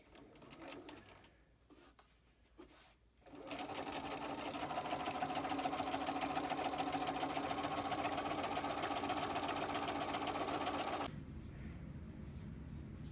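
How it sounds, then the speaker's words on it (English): A sewing machine runs steadily for about seven seconds, stitching a double line to form the divider on a fully lined pocket, loud and close, with quieter fabric handling before and after. "sew back down that line in a parallel line, and then sew across the other bottom"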